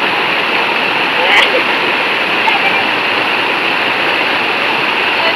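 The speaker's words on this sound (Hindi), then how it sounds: "देखो कितना तेजी से पानी गिर रहा है नीचे में" Floodwater pours fast through a village like a waterfall, a loud, steady rushing roar that fills the whole stretch, with faint voices partly under it.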